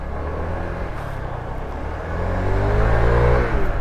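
Engine of a 2025 Kymco Like S 150 Dark Edition retro scooter, a four-valve 150 cc machine, revving on a test ride: a steady close drone that rises and grows louder partway through, with no talk.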